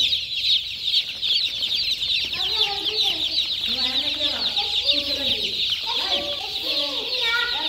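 Chicks peeping in a brooder, a dense, continuous chorus of high chirps with some lower clucking calls from a chicken, close and busy throughout.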